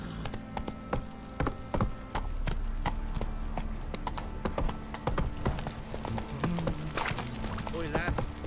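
Roach, the horse in The Witcher 3, trots with a brisk, rhythmic clip-clop of hooves, fairly close, mixed with other game sounds and some voices.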